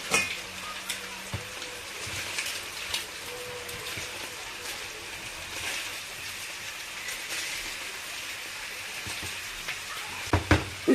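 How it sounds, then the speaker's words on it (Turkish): Eggs hitting a hot pan of cooked green beans, giving a steady, moderate sizzle that crackles throughout with scattered sharper pops and clinks near the end. "yumurtalarımı üzerine ilave ediyorum tavamıza"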